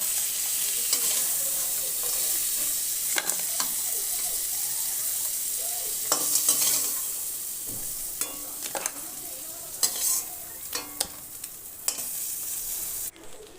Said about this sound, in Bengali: ওই কড়ার মধ্যে দিয়ে দিলাম সামান্য তেল, দিয়ে নেড়ে চেড়ে নিলাম।